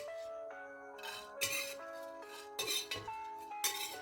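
Metal utensil scraping and clinking against a pan while scooping out roasted seeds, in short bursts, with ringing metallic tones between the scrapes.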